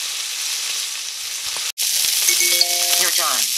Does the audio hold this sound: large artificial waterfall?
no